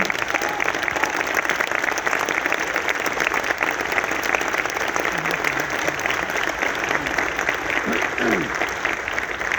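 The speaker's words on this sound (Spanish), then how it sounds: "vuelvo a pedir otro gran aplauso" Loud, sustained applause from a large crowd at a book fair event, dense clapping filling the whole stretch without letting up.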